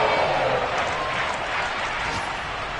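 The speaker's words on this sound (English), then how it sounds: "How about some applause for the defense there?" Stadium crowd at a football game applauding and cheering the defense after a stop forcing fourth down, a dense, loud wash of clapping and roar throughout.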